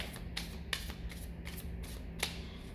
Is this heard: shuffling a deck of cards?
yes